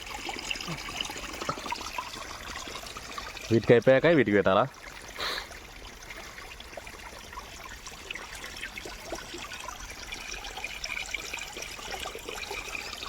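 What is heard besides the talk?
water flowing into field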